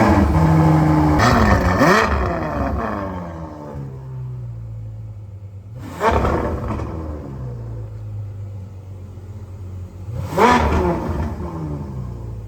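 An 812 sports car engine cold-starts with a sharp roar, then settles into a deep idle, revving loudly two more times before dropping back to a rumble.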